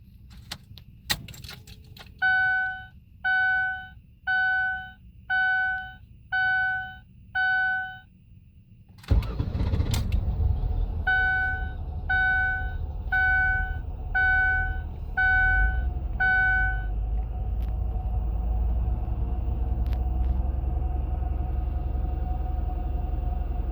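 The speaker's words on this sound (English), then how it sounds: "we're in the car, we're gonna crank it up and let's see what happens" A 2007 Ford Taurus with a warning chime sounding in repeated beeps, then the engine cranks and catches, settling into a steady low idle close by.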